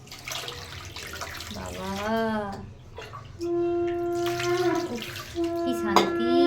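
Water is poured over a small doll during its bath, a light splashing trickle heard beneath a woman's cheerful, sing-song talking.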